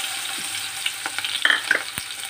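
Capsicum and onion hit a tablespoon of hot oil and sizzle as they are stir-fried, a close, continuous crackle with a few sharp spatula clicks and scrapes, no voices.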